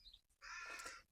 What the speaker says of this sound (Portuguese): isto faz lembrar o som dos corvos